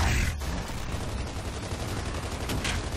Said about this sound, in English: I'm getting shot from blue.